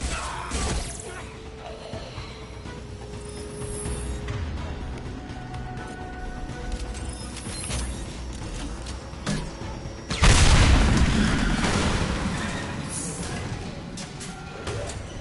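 Tanks are blown apart with heavy weapons in Mass Effect: a steady rumbling battle din with scattered clanks, then a sudden loud crashing explosion partway through that decays slowly.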